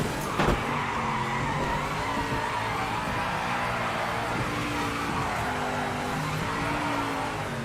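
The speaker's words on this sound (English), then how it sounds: "World's longest crash." A race car in Project Motor Racing skidding and scraping through a long, drawn-out crash, the engine droning steadily and the tires grinding without a break, loud and close.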